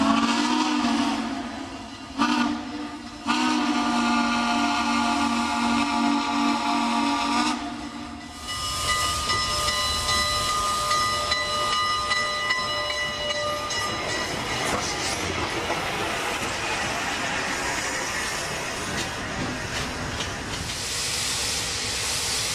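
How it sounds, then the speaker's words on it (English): Southern Pacific 4449 steam locomotive, arriving in Portland after a winter run from Spokane, sounds a loud chime-like steam whistle in repeated blasts, then rolls in with heavy hissing steam and rumbling, clanking train noise that fills the rest. "the locomotive finally arrived back from an overnight stay in Spokane to Portland"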